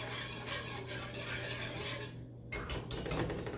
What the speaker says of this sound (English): I want to give this a stir